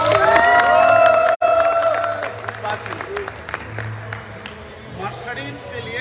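Applause and cheering fill a hall at a company awards event honouring a Mercedes-Benz GL achiever, whoops and shouts over steady clapping that eases into scattered claps, with an amplified voice speaking on top.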